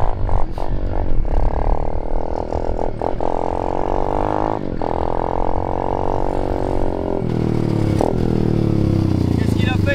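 A powerful motorcycle engine runs and revs hard, a loud steady droning roar with rising and falling pitch sweeps close by, while people talk over it.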